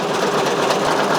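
A Brother Persona embroidery machine sews a satin stitch over hook-and-loop fabric on a dad hat, giving a continuous, even whirring drone at close range with no pauses.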